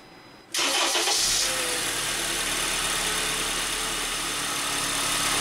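Honda Accord 2.4L four-cylinder engine starting after an oil change, a sudden start followed by a steady, fairly close idle hum with no talking.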